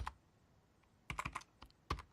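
Keys tapped on a computer keyboard while entering commands into a Raspberry Pi running IchigoJam BASIC: a quiet pause, then a quick burst of several close clicks and a couple of single keystrokes near the end.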